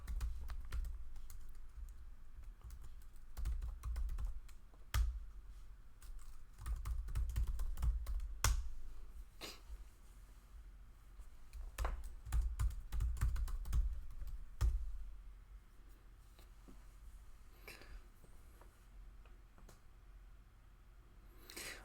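Typing on a MacBook keyboard while signing into an Apple ID, heard as quiet bursts of key clicks with pauses between runs, close and alone without any talk.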